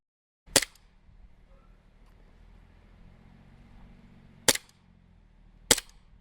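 A VFC SIG Sauer ProForce P320 M18 airsoft pistol loaded with .25 BBs fires three sharp, close cracks, the first alone and the last two about a second apart, over faint background hum.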